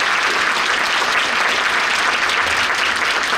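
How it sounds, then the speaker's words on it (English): A conference audience applauds veterans during a keynote at a Hmong national gathering. Steady, full applause from a large crowd fills the whole stretch without a break. "a round of applause for Dilsilon and our veterans of the Civil War"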